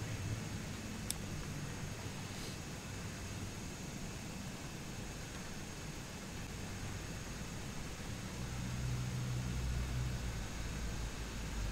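A steady, loud aircraft engine drone in a flight simulator as engine 1 starts, with a hissing, roaring wash, growing a little deeper and stronger near the end as it spools up.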